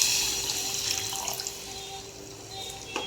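Hot water poured into a pan of frying barnyard millet makes a steady, close splashing and gurgling pour lasting a few seconds, with no voices.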